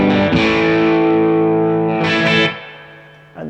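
Electric guitar through an Origin Effects RevivalDRIVE overdrive pedal in silicon mode rings out in sustained distorted chords with a slight chorus shimmer, loud and close, fading into a brief new strum.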